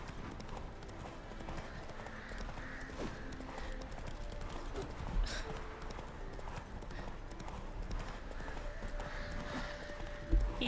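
Hooves clip-clop steadily as a horse is ridden in The Witcher 3, a continuous rhythmic patter of hoofbeats at moderate volume with faint background ambience and no talk.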